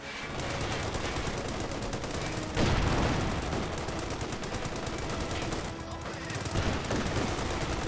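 Dense, continuous gunfire in the video game Company of Heroes 2 rattles without pause, rapid machine-gun bursts layered over booming shots in a loud, chaotic battle din.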